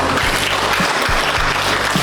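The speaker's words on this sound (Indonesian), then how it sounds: "Oke, tepuk tangan untuk semuanya." Schoolchildren applauding during a museum visit, loud continuous clapping close by with low thumps mixed in, steady for the whole short stretch.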